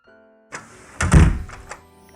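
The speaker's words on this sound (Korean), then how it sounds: "집문이 닫히자 원두가 민준이 방으로 달려갔어요" A house door swings shut with a solid thunk and a short rattle, loud and close, followed by a few softer knocks as it settles.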